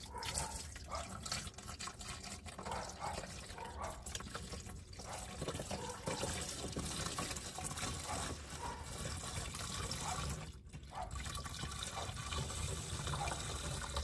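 Washer fluid pours steadily from a jug into the large reservoir of a van's windshield washer system, a continuous liquid trickle and gurgle running nearly the whole time, close and moderately loud, with no talking.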